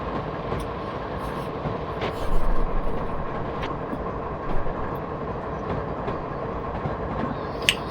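A long BNSF freight train led by an ES44DC locomotive in Train Simulator 2018 rolls past with steady rumbling and a rhythmic clickety-clack of wagons, plus occasional brighter squeals and clanks, no voices.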